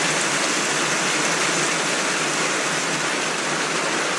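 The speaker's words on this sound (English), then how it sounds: "rain is good for the flowers, not for the barbecue out back." Steady heavy rain pours down outside during a backyard cookout, a dense, loud, unbroken hiss with no voices over it.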